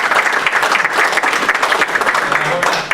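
A second round of applause for Dr Michael McConachie, a room full of people clapping steadily and fairly loud, with a few voices faintly mixed in.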